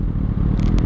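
A Suzuki GSX-R motorcycle lifting into a wheelie, its engine a loud, steady low rumble with a rough, crackling edge through a brief moment.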